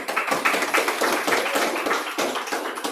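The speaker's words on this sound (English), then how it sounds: "Doesn't Sudama deserve a clap?" An audience at a seven-day Srimad Bhagavat discourse claps together, with close, full applause that holds steady throughout and no speech above it.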